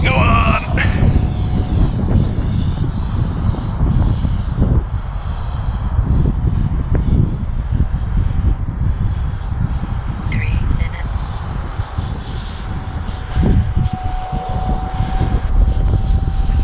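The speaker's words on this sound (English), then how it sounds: "flight two, let's see how we go on" A 25-inch balsa electric ducted fan Gnat model jet flies in a breeze with a continuous, fairly loud airy whine and rushing wind noise that persists throughout.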